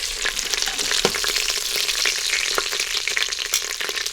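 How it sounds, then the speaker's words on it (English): Short ribs browning in hot oil in a pressure cooker, a dense, loud crackle of sizzling and popping with occasional sharper spits, steady throughout with no talking. "So we're finished browning our meat, so I'm just going to remove them onto this plate that I've set aside."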